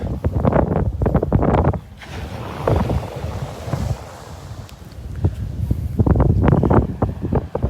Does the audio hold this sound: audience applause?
no